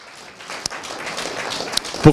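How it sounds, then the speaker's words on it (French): Conference audience applauding a university professor, a brief patter of scattered clapping with a few sharper individual claps near the end. "je vous demande de l'applaudir"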